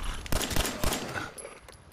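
Gunfire in the video game Fallout 4: a quick burst of three or four sharp, loud shots close together, followed by a fading tail and faint ambient noise.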